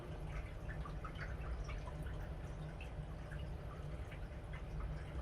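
Water drips steadily into a container while newly arrived corals undergo drip acclimation, a faint, continuous patter of small drops over quiet background hiss.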